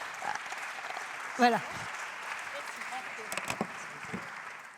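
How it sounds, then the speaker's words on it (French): Soft, distant applause from an audience at the Choose France awards ceremony of Les Etats de la France 2022, running steadily under a voice speaking into a microphone. "on les applaudit très fort une dernière fois"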